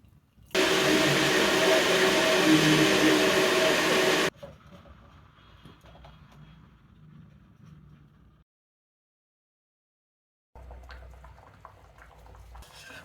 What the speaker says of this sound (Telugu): ముంజలు కూడా ఉడికేస్తాయి నీళ్ళల్లో